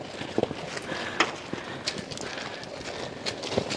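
Carabao (water buffalo) hooves clop on ground while the animal pulls a load, an uneven series of close hoof knocks and scuffs, with faint voices.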